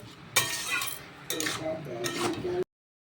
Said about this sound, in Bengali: এটাকে নাড়াচাড়া করে ঢাকা দিয়ে দিতে হবে